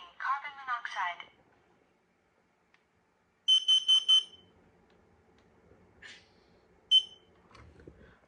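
Kidde KN-COSM-BA combination smoke and carbon monoxide alarm sounding in a test, giving loud clustered beeps, with a synthetic voice warning between the bursts and people talking at the start.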